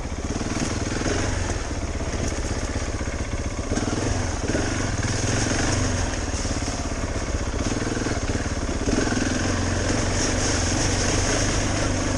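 A KTM 690 Enduro R single-cylinder motorcycle riding off road gives a loud, continuous engine roar close to the mic, steady throughout with slight throttle changes and wind buffeting.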